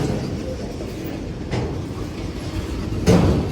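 A freight train hauling empty autoracks rumbles past close by, a continuous low roll with occasional clanks and a louder knock near the end.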